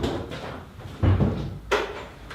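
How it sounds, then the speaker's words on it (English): Land Rover Discovery 1 doors being opened in a garage during a fibreglass kit fitting, giving a few close, brief clunks and thumps against low background noise. "You can open the doors now, can't you?"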